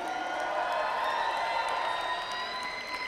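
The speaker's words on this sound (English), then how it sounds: "can you give a big round of applause to Vandana, Dr. Kara, and all the organizers of tonight's event?" At an evening Diwali celebration, a crowd gives a steady, fairly distant wash of applause with cheering and whoops for the event organizers, sustained without pause.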